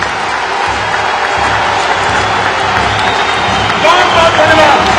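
A big rally crowd at a Narendra Modi speech breaks into loud cheering and applause, a continuous wash of noise that swells toward the end.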